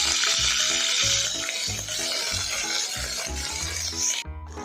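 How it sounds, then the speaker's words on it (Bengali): Ginger-garlic paste fries in hot oil in a pan for palak paneer, producing a steady, close, loud sizzle that fades slightly near the end. "এবার এতে দিয়ে দেবো আদা রসুন বাটাটা, দিয়ে একটু ভেজে নেব।"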